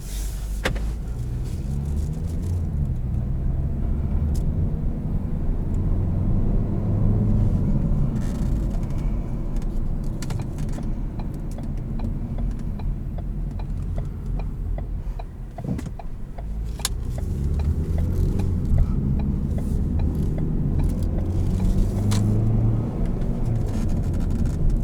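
A 2018 Ford Focus SE with automatic transmission drives on the road, its engine and tyre rumble a steady low drone heard from inside the cabin with faint interior clicks.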